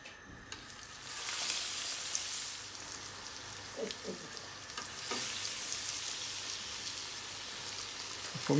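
Battered food frying in hot oil, a steady bright sizzle that swells as pieces go in, with a few soft clinks and stirring sounds, close and continuous with no talking.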